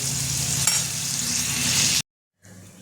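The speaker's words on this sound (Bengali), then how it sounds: "সেদ্ধ আলুটা একটুখানি ভেজে নেবো, হালকা ভেজে নেবো" Loud, constant sizzle of boiled potatoes frying in oil, cutting off abruptly, then resuming more quietly after a short silence.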